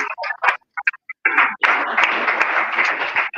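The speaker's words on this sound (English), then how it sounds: "please let me give a big round of applause." Audience applause at a World Public Relations Day event, starting with scattered isolated claps and then swelling into a fuller, steady round of clapping.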